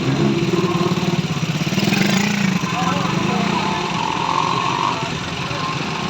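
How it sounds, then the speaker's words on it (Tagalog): A motorcycle engine runs close by with a pulsing idle and brief revs, a steady mid-pitched putter heard beneath people talking. "Ito yung motor nila."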